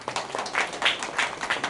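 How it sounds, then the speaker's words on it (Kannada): Audience clapping at a Kannada award ceremony honouring guests on stage, a steady patter of many hands with bursts of louder clapping throughout, fairly close and without talk. "ಜೋರಾಗಿ ಚಪ್ಪಾಳೆ ಕೊಡಿ."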